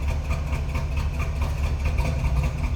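A 1979 Chevrolet Camaro engine idles steadily with a low, even rumble, close and continuous without talk.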